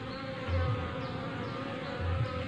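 A small honeybee colony in a hive box gives a faint, close buzzing, with a couple of brief louder swells as bees move near.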